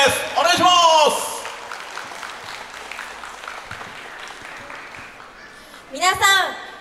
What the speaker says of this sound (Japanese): 皆さん、まずは大きな拍手をください。